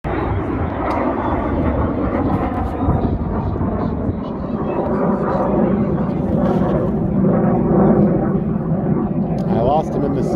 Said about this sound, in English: I'm not sure what aircraft this dark gray one is, but it looks like another F-14.